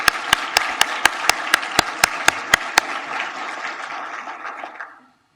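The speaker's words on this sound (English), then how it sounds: "Let's give these elected officials a round of applause." A hall audience applauds elected officials at a village state-of-the-village event, a steady wash of many hands clapping for about five seconds, with a rhythmic series of sharp, louder claps near the front before the applause fades out.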